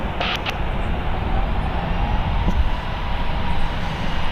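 Boeing 737-900ER airliner taking off at San Francisco International Airport, a loud, broad engine roar that rumbles steadily throughout, heard from a distance.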